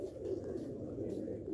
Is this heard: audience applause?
no